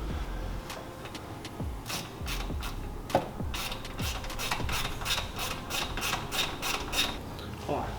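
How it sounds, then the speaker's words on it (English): A ratcheting wrench torques down a bolt on a Sea-Doo XP watercraft, giving repeated clicking strokes in an uneven rhythm, close by, with faint voices in the background. "Alright, just gotta torque it down."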